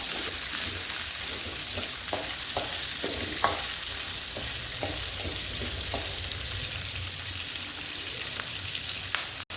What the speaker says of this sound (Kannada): ಒಗ್ಗರಣೆ ಬೇಯ್ತಾ ಇದೆ ಪರಂಗಿಕಾಯಿ ಪಲ್ಯಕ್ಕೆ,